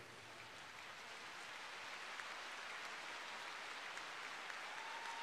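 An audience at a showdance competition applauds, a dense, even wash of many hands clapping at a distance, steady and without a break.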